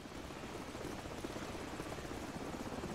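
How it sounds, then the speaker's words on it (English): Steady rotor thrum of a helicopter hovering nearby in the video game Call of Duty: Modern Warfare 2, a continuous loud chopping drone with no voices. "The helicopter's back."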